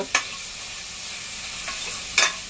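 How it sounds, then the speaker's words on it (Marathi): A crushed thecha of onion, coriander, garlic and green chili sautés in a pan with a constant close sizzle, broken by a few sharp spatula scrapes near the start and end. "कांदा कोथिंबीर लसूण मिरचीचं ठेचा घालूया आणि हे छान परतून घेऊया त्याचा कच्चेपणा जाईपर्यंत"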